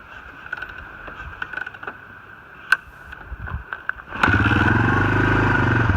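A 1991 Suzuki DR350S motorcycle, choked with the fuel on, kicked over several times: scattered mechanical clunks and clicks, then the single-cylinder engine catches and settles into a loud, steady running rumble up close.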